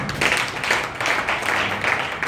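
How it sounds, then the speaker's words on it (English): A church congregation claps their hands in a steady, fairly loud rhythm that fills the room, with no talk over it. "Clap your hands to Jesus."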